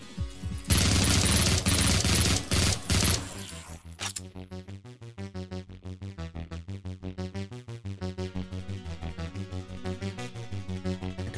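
Gunfire in the retro shooter video game Project Warlock: a dense, loud burst of rapid shots gives way to a long string of fast, evenly spaced repeating weapon blasts with no talking.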